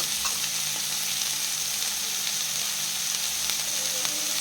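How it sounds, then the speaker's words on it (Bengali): Mixed vegetables with a little turmeric and a roasted spice blend fry in a pan for mixed bhaja, giving a loud, continuous close-up sizzle with faint stirring and no talk. "এটা ওই ভেজিটেবল দিয়ে সব কিছু দিয়ে ভাজা"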